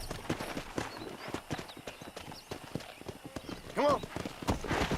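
Horse hooves clip-clopping in a rapid steady gallop in the Red Dead Redemption video game, with a short whinny near the end and a voice talking over it.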